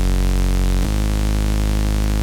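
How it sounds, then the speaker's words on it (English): A buzzy, noisy FL Studio stock noise-saw synth bass drones loud and sustained, shifting to a lower note partway through. "As a bass, it's just a noise saw."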